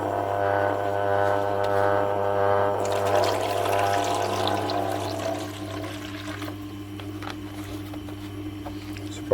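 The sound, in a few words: water poured into a tray for a sharpening stone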